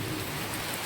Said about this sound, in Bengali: দেখতেই পাচ্ছ কেমন বৃষ্টি আমাদের এখানে শুরু হয়ে গেছে।